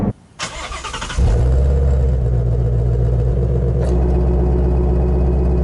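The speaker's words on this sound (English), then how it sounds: "if I'm putting it back in sport mode, you hear that exhaust open up again" A 2017 Ford Shelby GT350 switches into sport mode as its exhaust opens, the engine jumping from a quieter idle into a loud, deep, steady rumble close by.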